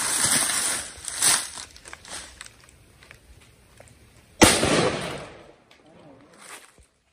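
Target shooting in the mountains: a couple of sharp, echoing gunshots, one early and one louder blast midway with a long decaying tail, surrounded by quieter rustling and background noise.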